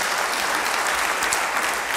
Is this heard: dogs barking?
no